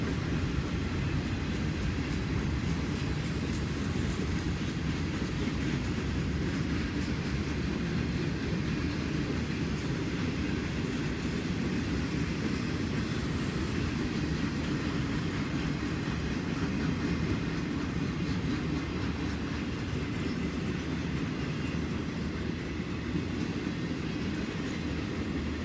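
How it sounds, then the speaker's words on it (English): Maintenance-of-way train WO44 hauling track equipment rolls past in a steady, continuous low rumble with faint clickety-clack of wheels on rail, loud and close throughout, no voices. "Rolling by now is WO44, hauling a plethora of maintenance-of-way equipment."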